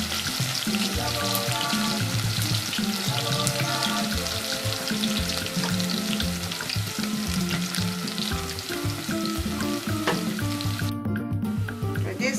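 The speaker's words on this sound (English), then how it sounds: "you fry your sliced onion" Sliced onion frying in palm oil for a tuozaafi sauce, a loud, dense, continuous sizzle with crackling and occasional stirring scrapes, heard up close without talk.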